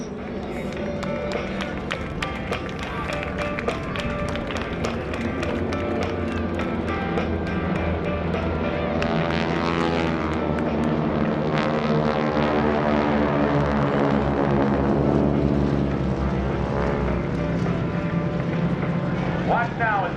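GEICO Skytypers propeller airplanes making a fan pass at the 2016 NAS Oceana airshow, a loud sustained engine drone that builds and shifts pitch as the formation passes, with an announcer talking over it.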